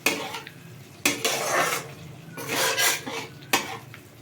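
A spice paste with cumin is stirred and fried in a pan, with a few sharp metal spoon knocks against the pan followed by bursts of scraping and sizzling. Loud and close, with no speech.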